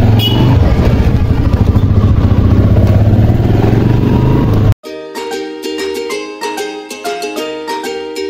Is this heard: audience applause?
no